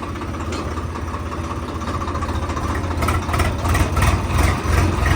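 A new Swaraj tractor engine idles nearby with a steady, heavy, low rumble that grows slightly louder and rougher toward the end.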